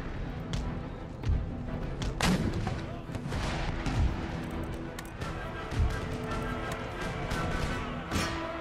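Artillery and musket fire in the strategy game Empire Total War, with repeated heavy booms and crackling volleys over a continuous battle din, plus a voice talking over the fighting.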